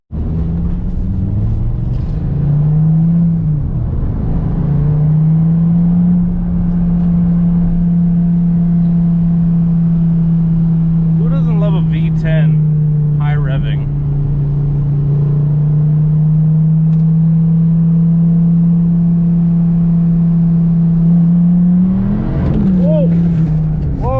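A Dodge Viper's engine drones loud and close, its steady low growl holding for most of the stretch, with brief revving swells near the start and end.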